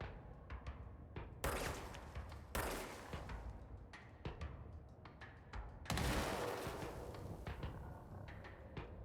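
Gunfire and impacts in the video game Control come as loud bursts and thuds at irregular intervals, with a rumbling bed underneath and no talk.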